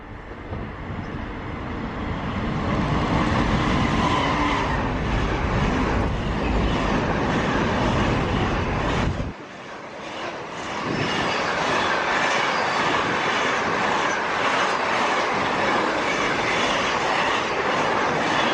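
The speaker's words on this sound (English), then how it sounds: "The next train at platform 3 does not stop here." A non-stopping train roars through a station platform at speed, a loud, dense rush of wheels and wind that swells, drops sharply as it passes, then carries on as a steady clatter.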